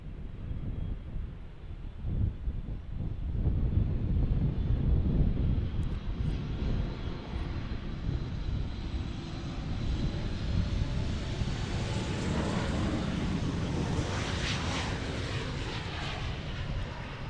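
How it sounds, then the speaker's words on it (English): An American Airlines Boeing 737 lands on runway 18 Left at Austin's Bergstrom International Airport, its steady jet roar rising and lingering over about seventeen seconds, mid-distance and fairly faint, with some wind buffeting the microphone and no talk. "we've got what looks like a American 737 arriving here on 18 left."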